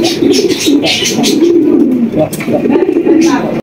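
A male and female pair of fancy racing pigeons coo close by, a repeated low throaty burble rolling on and off, with someone talking over them and a few sharp bright clicks.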